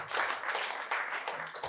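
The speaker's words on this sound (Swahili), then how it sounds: "Pigie tena Bwana makofi mazuri." A church congregation claps during a sermon, a short stretch of dense, fairly distant applause with loosely rhythmic claps and a faint voice underneath.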